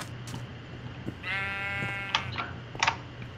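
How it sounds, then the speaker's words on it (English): A sheep in the Minecraft video game gives a single drawn-out, wavering bleat over a steady low background hum, followed by a few short clicky game sounds. "Sheep, how did you get up there, but you can't get up to the grass?"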